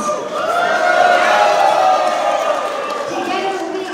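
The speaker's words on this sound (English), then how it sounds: "Let's give them a round of applause." An audience at a legislative announcement on making Diwali a school holiday claps and cheers, a broad sustained swell of applause and voices filling the room.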